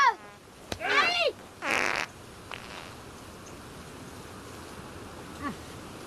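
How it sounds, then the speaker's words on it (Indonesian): A fart noise sounds in two short, breathy bursts close together, just after a brief voice cry, followed by quiet background hiss. "Siapa di antara kalian yang kentut?"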